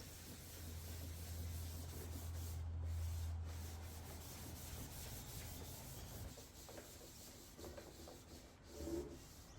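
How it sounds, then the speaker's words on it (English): A linen cloth wipes hemp oil across a wooden desk, producing a soft, continuous close rubbing hiss that swells and fades with each stroke, quiet and unaccompanied by talk. "Then I'll use a linen cloth to wipe off the excess."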